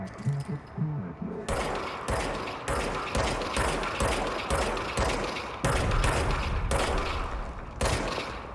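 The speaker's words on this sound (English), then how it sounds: "Now I have a gun. R2 atira. Arma de serviço." The Service Weapon in the video game Control on PS5 fires in a steady series of about ten loud, evenly spaced shots. Each crack is followed by a short tail, with no talk over it.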